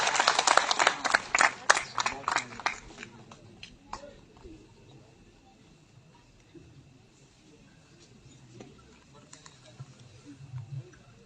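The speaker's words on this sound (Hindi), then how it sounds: "बहुत बहुत स्वागत, जोरदार तालियों से स्वागत किया जाए" Crowd applause welcoming a new party member at an election campaign event, a loud burst of close clapping that fades out after about four seconds, followed by quieter room noise and murmuring.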